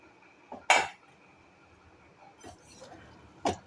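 A metal lid is set onto a pot of ash gourd curry after the gas is switched off, giving one sharp, close clatter followed by a few fainter clinks and knocks in a quiet room.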